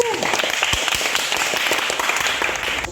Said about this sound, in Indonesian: Kita berikan aplaus dulu untuk kelompok 2.